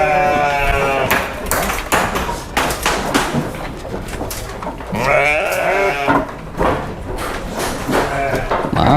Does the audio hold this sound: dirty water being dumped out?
no